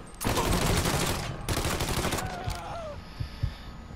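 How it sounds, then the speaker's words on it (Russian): Gunfire in the video game Mafia 3: a loud, dense burst of shots at the start, a second burst, then fading echoes and a few scattered single shots. "Нет, это просто был снайпер."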